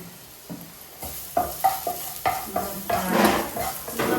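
Onion frying in coconut oil in a pan, a rising sizzle broken by repeated scraping stirs and light pan knocks, close and fairly loud, no speech.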